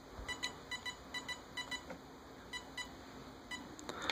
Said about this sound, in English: hold on your throttle until it makes another set of beeps.